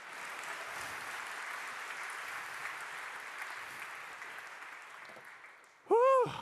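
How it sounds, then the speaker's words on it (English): A live developer-conference audience breaks into sustained applause from a crowd, clapping steadily throughout before a short synthetic whooshing tone sweeps in near the end. "Now you can clap."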